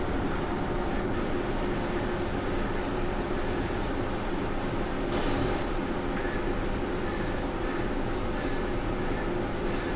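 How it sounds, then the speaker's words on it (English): Electric blower fan running beside an indoor cycling setup on a Kickr Core trainer, a steady, loud broadband whoosh and hum that holds constant throughout with no talking. "so that means it's time to put the blower on"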